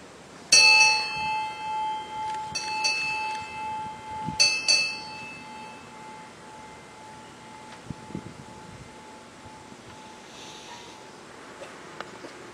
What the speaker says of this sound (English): which we will remember when we hear this bell